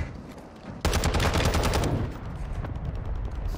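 Loud, rapid automatic gunfire erupts abruptly in a Warzone 2 match and rattles on continuously for about three seconds, near and sharp, with faint game ambience before it starts.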